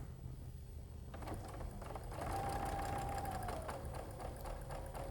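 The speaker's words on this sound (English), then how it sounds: "Go back to the sewing machine one last time with this piece." Steady mechanical whirring and rapid stitching of a sewing machine sewing a baby quilt piece, running continuously at a moderate, slowish pace with a faint hum, close by.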